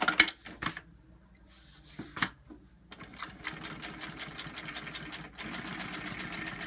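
A sewing machine winds a bobbin while it sews, first in short clattering bursts with pauses, then running continuously as a fast, close mechanical whir and ticking.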